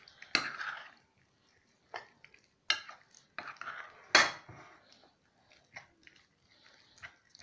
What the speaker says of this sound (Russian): Хорошо все перемешиваем.